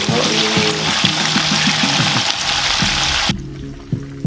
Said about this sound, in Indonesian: kita masukin bawang putih tadi digeprek